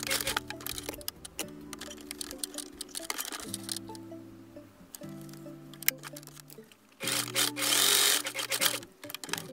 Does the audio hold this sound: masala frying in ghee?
no